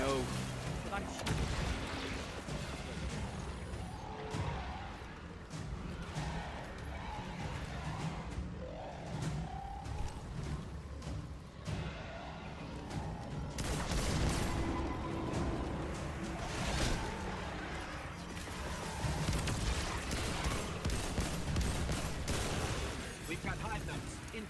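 Sustained shooter-game gunfire with heavy booming blasts and crackling bursts runs throughout, dense and loud, while players talk over the action.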